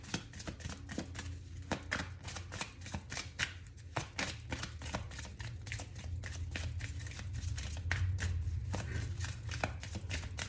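Oracle cards shuffled and handled close up during a reading, a dense run of soft riffling and sharp tapping card sounds with an irregular rhythm, continuous throughout.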